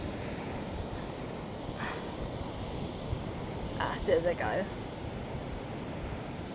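Sea surf on the Algarve coast near Aljezur forms a steady, rushing broadband wash throughout, with a brief swell near the end, while someone speaks a few words over it.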